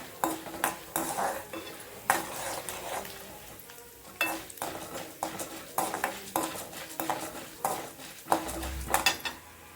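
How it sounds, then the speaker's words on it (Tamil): Chana dal frying on a low flame for tomato chutney, with a gentle continuous sizzle under frequent scraping stirs of a spoon against the pan, close by. "சிம்மில் வச்சுட்டு பொரிச்சுடுவோம்"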